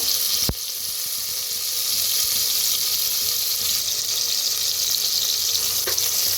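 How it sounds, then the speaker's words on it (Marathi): Crushed green chili and garlic fry in hot oil in a pan, giving a loud, dense, steady sizzle. A sharp metallic clink of a utensil comes near the start. "जे आपण हिरवी मिरची लसूण चेचून घेतलं होतं ते तेलात भाजून घेऊया"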